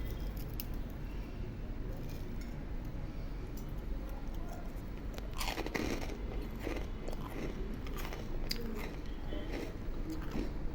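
Crunchy Saidi fayesh rusks, oven-toasted and made from a kilo of flour, being bitten and chewed close up, with repeated crisp crunching that grows denser in the second half over a steady background hiss.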